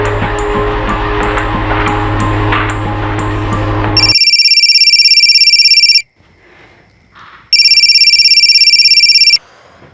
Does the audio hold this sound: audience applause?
no